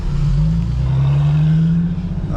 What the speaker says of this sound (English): AMG trying to take off.